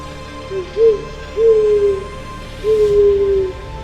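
A great horned owl hoots in the desert, three low steady hoots spaced about a second apart, clear and fairly close over a faint hiss, with no one talking.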